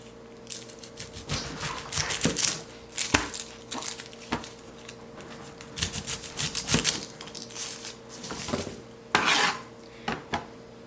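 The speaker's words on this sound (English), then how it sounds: "So you're going to want to cut off the bottom and the top." A knife trims the top and bottom off an onion on a cutting board, giving sharp, close chops and scraping taps in irregular bursts over quiet background hum.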